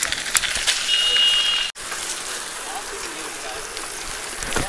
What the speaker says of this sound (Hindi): अरे भाई बारिश है ना